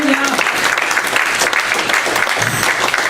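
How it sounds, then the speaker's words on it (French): A church congregation breaks into loud, sustained applause during a worship service, the clapping filling the room as voices call out over it. "Ah, ça vaut une bonne main d'applaudissement."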